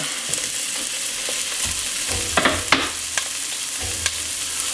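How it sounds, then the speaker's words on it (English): A large onion sizzles in a pan for Swiss steak while a utensil stirs and scrapes it, with a few clacks and scrapes over steady close frying and no voices. "You're going to add the rest of the ingredients, which are, for a single batch, 1 large onion."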